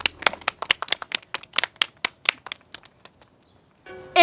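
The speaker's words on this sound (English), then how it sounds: "They deserve a round of applause." A short, sparse round of clapping from a small group, with distinct individual claps that thin out and fade over a few seconds, followed by a brief tonal sound at the end.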